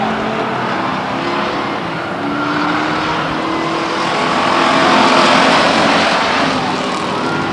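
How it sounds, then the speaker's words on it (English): Stock cars race at Stockton 99 Speedway in 2001, a dense pack of loud engines roaring continuously and swelling as cars pass close by. "That's some close stock car racing indeed."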